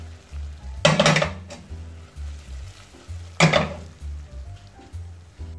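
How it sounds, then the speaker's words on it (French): Butter melts in a pan for salted caramel and is stirred, with a soft low sizzle under two sharp scraping strokes of the utensil against the pan, close by. "بعد ما ذابت الزبدة نحركو هكا باش تدخل الزبدة بالكدا"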